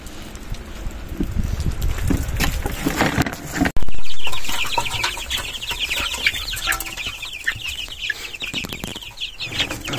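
Chickens in a Belarusian village farmyard cluck and chatter nearby, with wind buffeting the microphone and a sharp knock partway through, and no speech.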